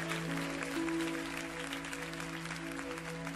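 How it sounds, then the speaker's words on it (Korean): A church congregation claps together in sustained, dense applause that stays steady and fairly loud throughout. "우리 하나님께 다시 한번 큰 영광의 박수를 드렸으면 좋겠습니다"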